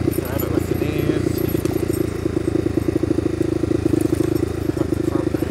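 A Honda motorcycle ridden along a rutted track sends out a constant close engine drone with rattling clatter, someone talking over it throughout.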